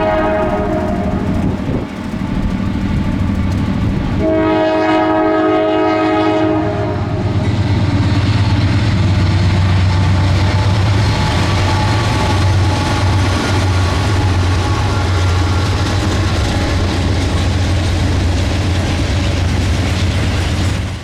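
A Norfolk Southern manifest freight train rolls past on the Christiansburg District in heavy snow, its horn sounding a loud sustained blast before the steady roar and rattle of passing cars, wheels and couplers continue close by.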